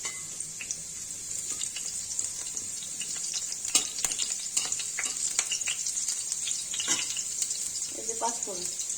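Dried red chilies and bay leaves crackle in hot oil in a pan, a steady bright sizzle broken by sharp pops and a few stirring clinks, with brief speech near the end.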